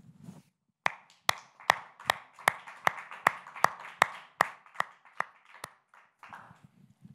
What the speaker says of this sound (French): on va vous applaudir, nous en tant que pasteurs de cette communauté, vous applaudir pour ce que vous faites chaque jour